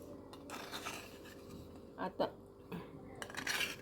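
Ragi idlis lifted from a steamer pot with a few clinks and scrapes of metal utensils, a couple of sharp knocks around the middle and a busier clatter at the end, fairly faint and close.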